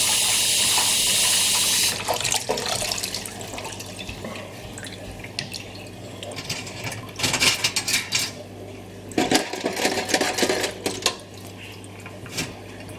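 Small metal parts from a Japanese 40-day wall clock movement are swirled and shaken in a dish of rinsing fluid, giving wet sloshing, dripping and light clinking that swells in two louder bursts.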